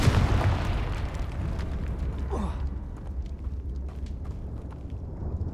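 Confringo explosive curse blast in the Hogwarts Legacy video game, a loud booming burst at the start that decays into a rumbling tail with a brief swooshing effect.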